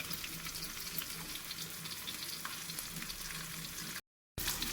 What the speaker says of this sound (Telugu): దీన్ని అయితే మధ్యలో బోన్ తీసేసి ఫ్రై అయితే చేస్తున్నా